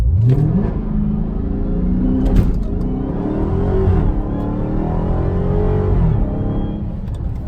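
Dodge SRT Hellcat Charger at 500 horsepower accelerating from a standstill to 60, a loud close engine roar climbing steadily through the gears with brief dips at shifts, heard from inside the car.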